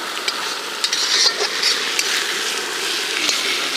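Tomato goes into hot oil with cumin, dried chilli and ginger paste, a loud continuous close sizzle with scattered stirring scrapes and pops.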